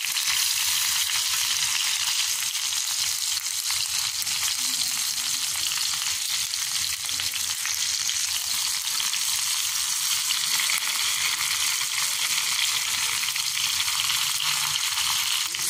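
Beef kababs frying in a pan, a loud, dense and unbroken sizzle of hot oil held steady close up throughout, with no talking.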